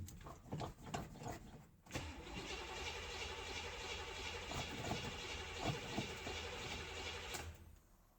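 A Chevrolet El Camino engine cranking in choppy bursts, then catching and running steadily near the microphone for several seconds before cutting off.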